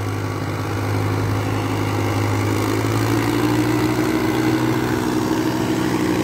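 A 1999 tractor engine idles steadily with a low, even throbbing hum that stays constant and close throughout, with no talking over it.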